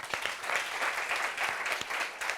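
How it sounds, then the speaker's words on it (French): An audience at a meeting applauds, steady crowd clapping throughout, moderately loud and without speech. "je voudrais qu'on applaudisse pour ces filles-là"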